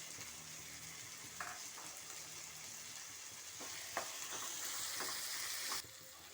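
Soaked, half-boiled chana dal tossed into softened tomatoes in a hot pan sizzles steadily, with a few scraping stirs and clinks of the spoon.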